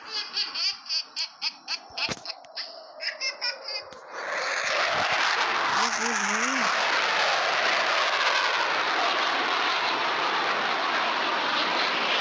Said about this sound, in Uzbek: Uchuvchi samolyotlar yana qaytyapti.